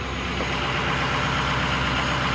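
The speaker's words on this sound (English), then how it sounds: "the truck's sitting out here high idling" A Ford 6.0 diesel truck engine runs at a high idle nearby with a new cold air intake, a steady loud rumble with a throbbing low drone, turbo noise and no change in pitch.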